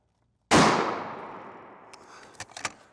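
A single loud, sharp long-range precision rifle shot with a suppressor, made at a target range toward a second smaller target, with a long decaying tail and a few fainter clicks and knocks afterward.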